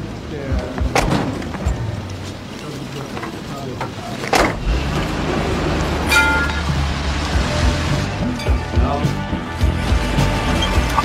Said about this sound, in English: Not paying attention to the road, Otto crashes into some garbage in the street